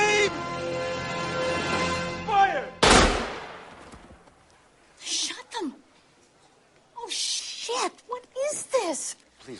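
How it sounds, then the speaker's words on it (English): A firing squad's volley in a film: one loud, abrupt crack of gunfire right after a shouted command, then a quieter tail and scattered voices talking afterwards. "Aim! Fire! Shot them!"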